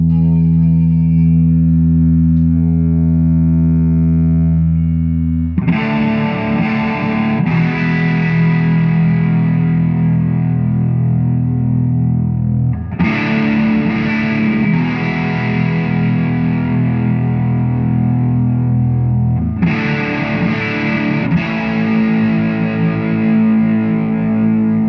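A 1995 Gibson Lonnie Mack Flying V electric guitar on the neck pickup, played through a Fender Super Reverb tube amplifier with a warm, driven tone, sustained chords and notes ringing out in three long phrases.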